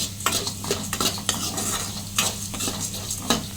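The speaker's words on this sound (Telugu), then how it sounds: "దోరగా ఫ్రై చేసుకోండి మంచి స్మెల్ వస్తుంది" Curry leaves frying in a pan on low to medium flame, a steady bright sizzle with repeated scraping stirs of a spatula, close and fairly loud.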